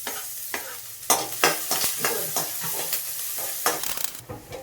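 Sliced onion, green chili and curry leaves fry in hot oil for poha, a crackling sizzle broken by several loud stirring scrapes, close and busy with no voices.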